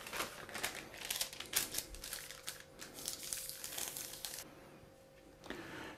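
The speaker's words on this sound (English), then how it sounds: "So I'll just put the greaseproof paper over it." Greaseproof paper being handled and pressed over a pudding bowl, giving crisp crinkling and rustling bursts up close, busiest early and fading to near quiet before a final crinkle.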